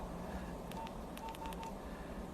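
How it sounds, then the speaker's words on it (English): Telephone keypad dialing tones, a handful of short beeps spaced irregularly at a steady level over a low background hum, heard without any talking. "Look, it's dialing."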